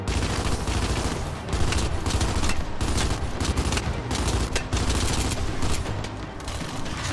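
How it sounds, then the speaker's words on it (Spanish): Lancer rifle firing in short bursts in the video game Gears 5, with dense, loud gunfire continuing through the whole stretch amid other battle noise and no voices. "No mames, que es de ráfagas la Lancer, güey."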